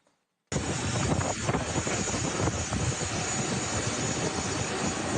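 A jet aircraft idles on an airport tarmac, its engine giving a loud, steady roar that starts abruptly after a brief silence and holds constant with no voices.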